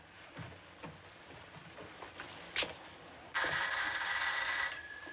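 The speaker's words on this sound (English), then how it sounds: "It's the phone." A telephone bell starts ringing partway through, a steady bright tone held for nearly two seconds after quieter shuffling and faint noise in a room.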